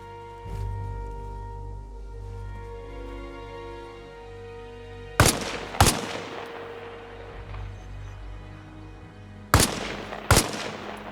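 Four sharp, loud sniper rifle shots ring out in Arma Reforger, fired in two spaced pairs, each crack trailing off in a brief echo over a steady low background hum.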